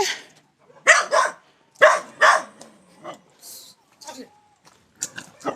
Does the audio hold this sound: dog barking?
yes